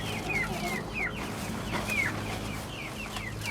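Chickens cluck as they are let out of the coop into a farm enclosure, several birds giving short, repeated, fairly faint calls at irregular intervals over a low steady background hum.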